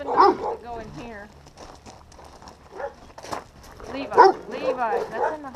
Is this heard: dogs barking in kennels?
yes